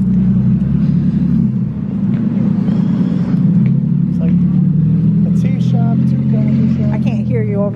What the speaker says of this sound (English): Over that truck, it's loud.